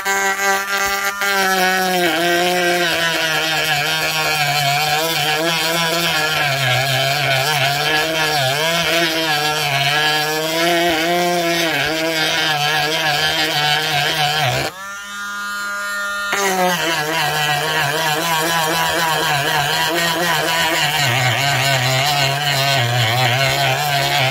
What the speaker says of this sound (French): je vais meuler tout le surplus